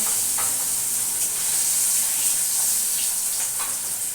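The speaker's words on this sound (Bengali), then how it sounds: "মাছগুলো তো ভাজা হয়েই গেল প্রায়" Fish frying in a pan in a home kitchen, a steady close sizzle that hisses on without a break, with small crackles and spits popping through it and no one talking.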